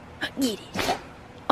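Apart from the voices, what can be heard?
sneeze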